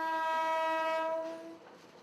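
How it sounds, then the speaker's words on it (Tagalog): PNR commuter train at Tayuman terminal sounding a loud, sustained horn tone that holds steady and then fades away near the end, without any talking. "Tunog pa lang daw ng tren,"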